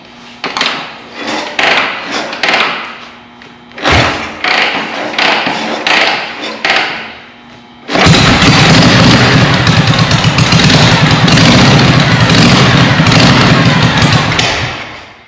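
A vintage Harley-Davidson Knucklehead engine is kick-started: a series of heavy mechanical kick thumps with short pauses, then the engine catches and runs as a loud, steady, close rumble to the end.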